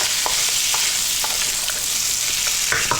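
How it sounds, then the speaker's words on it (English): Pork belly frying in a pan, giving a steady loud sizzle throughout, with occasional clicks and scrapes as the pieces are stirred and kept moving. "And we're going to fry this around for about 4 minutes in this pan."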